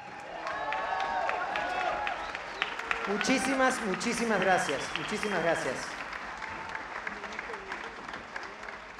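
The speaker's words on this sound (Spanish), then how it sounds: "Ahora nosotros le damos un aplauso a ustedes." Crowd applause at an outdoor orchestra concert celebrating a university anniversary, steady clapping with scattered cheers swelling mid-clip, while someone speaks over it through a PA.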